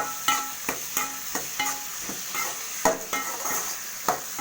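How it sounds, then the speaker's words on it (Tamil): Ginger and curry leaves being sautéed in a pan, with a steady sizzle under repeated sharp scrapes and taps of a stirring spoon against the metal, about two or three strokes per second, close up. "இதையும் போட்டு நம்ம இஞ்சியும் போட்டு நல்லா வதக்கி விட்டுக்கலாம்."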